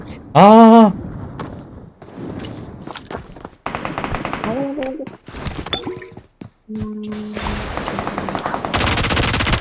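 Rapid automatic gunfire bursts and single shots crackle through a PUBG Mobile firefight, scattered in short volleys between pauses, with game sound effects and players talking over them.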